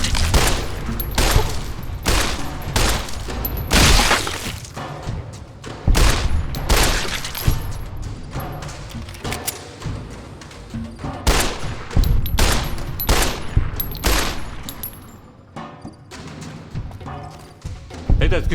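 Rapid gunfire in Fallout: New Vegas aimed at a big horned bull, with loud shots and bursts fired in quick volleys, short pauses between them and a voice briefly underneath.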